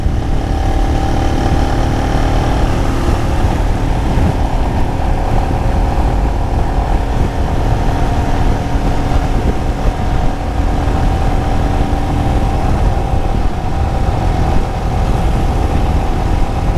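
A motorcycle ridden along an elevated highway gives a constant loud drone of engine and rushing wind that runs unbroken throughout, with no talking.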